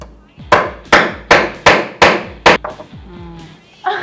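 Six sharp hammer blows strike a metal snap fastener being set into a bag at an even pace, each a loud ringing crack, followed by a quieter tap and some faint handling noise.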